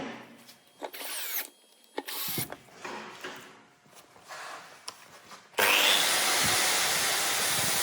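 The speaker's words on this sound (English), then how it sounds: "Drilling pinholes now." Power drill boring pinholes in a forged Damascus knife blade made from forklift chain, with short bursts of whirring and grinding that give way to a loud, continuous drilling whine.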